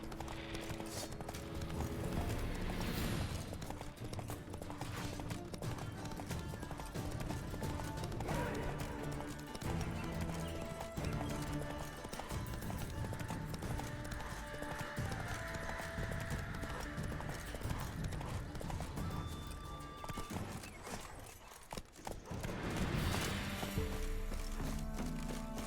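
Horse hooves gallop across terrain in the video game Witcher 3, a rapid, continuous clip-clop rhythm with a brief whinny, heard over game music and ambience.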